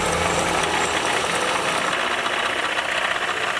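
A car engine held at about 2000 RPM, close and loud, a dense steady roar with a rapid rattling knock running underneath.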